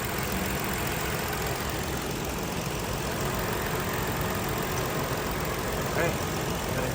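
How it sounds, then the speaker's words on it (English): A healthy 2018 Ford Flex engine idles with a steady, even hum and rumble, close and constant, with a faint voice briefly underneath. "Let's go ahead and show you guys the engine sounds completely"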